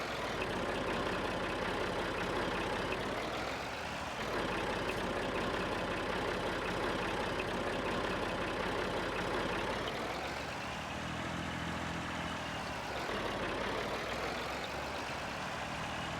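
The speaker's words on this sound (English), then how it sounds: "I feel like this tractor should have enough power." A small tractor engine hauling a spreader across a field in a farming game, a steady loud drone that rises and falls in pitch as load and throttle shift, continuous and with no voices.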